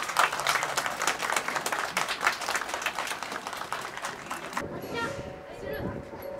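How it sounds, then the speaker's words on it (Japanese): Audience applause after a taiko drum group performs at a departure ceremony for a wrapped railway train, a dense burst of clapping from a crowd that stops abruptly, followed by a quieter room with voices. "美濃花太鼓保存会の皆様にもう一度大きな拍手をお送りください。"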